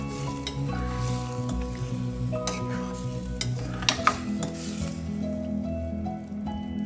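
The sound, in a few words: shrimp frying in masala in a pan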